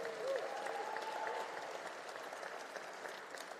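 Applause from a college convocation crowd for the poet laureate, a soft, even wash of many hands clapping at some distance, tapering slightly over a few seconds.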